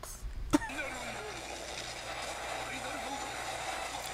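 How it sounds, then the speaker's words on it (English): A car engine from an anime episode starts with a sharp burst, then settles into a steady mid-pitched running hum, with voices heard faintly underneath. "car."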